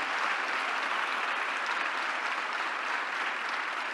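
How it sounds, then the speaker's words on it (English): Steady, dense applause from a large audience at a spiritual discourse, clapping continuously at an even level throughout with no voices standing out. "one round of applause from our side for to express our gratitude"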